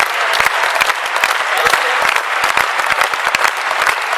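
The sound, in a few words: audience applause at poetry recital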